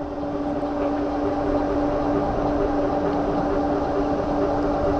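An Ecotric 20-inch fat tire folding electric bike runs at full twist throttle, giving a steady whining motor hum with a constant tone over wind and tire rush, close and continuous.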